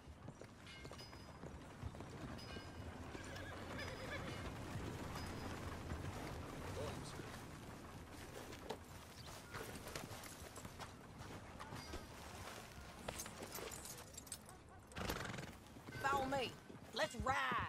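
Horses in the video game Red Dead Redemption 2 neigh and whinny among steady hoofbeats, with game dialogue and ambient sound running throughout and louder whinnies near the end.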